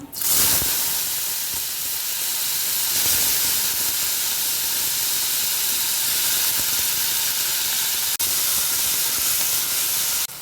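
Asafoetida with bottle gourd, carrot and capsicum sizzles loudly in a hot pan for Kathiyawadi kadhi, a steady, close, hissing fry that barely changes throughout, with one brief click near the end.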